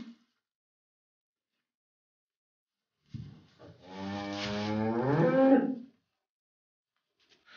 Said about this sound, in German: hat gehört, wie die Kühe muhen